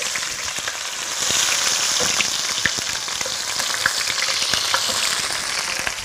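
Onions frying in a pan of hot oil with whole spices, a loud, steady crackling sizzle that swells after the first second and continues with faint stirring clicks.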